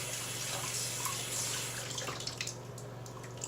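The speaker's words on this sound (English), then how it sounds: "Rinse it under some cold water." Cold tap water runs steadily into a sink as an alum block is rinsed under it after a shave, a continuous close hiss of flowing water with faint splashes toward the end.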